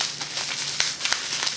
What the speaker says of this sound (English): Oh, this one's bubble wrapped.